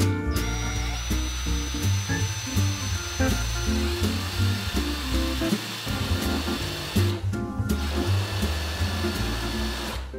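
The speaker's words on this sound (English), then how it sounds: "So I'll go ahead and drill this first one." A drill with a spade bit whirs continuously at close range, its pitch wavering slightly as it bores into wood, with a brief pause midway.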